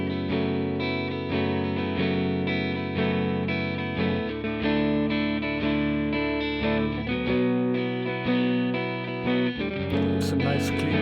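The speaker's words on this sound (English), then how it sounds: "Some nice cleanish sounds on the neck pickup." Harley Benton JA-25th electric guitar on the neck pickup, played with a clean, warm tone, ringing chords and sustained notes shifting every few seconds, with no voices.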